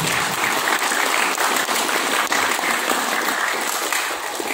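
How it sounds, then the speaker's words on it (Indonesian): Applause for the teachers at an Islamic school gathering, a thick, even roar of many clapping hands sustained throughout at close range. "Tepuk tangan dong untuk ustadz-ustadzahnya."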